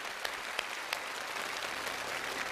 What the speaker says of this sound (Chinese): 掌声送给我们台上12位观众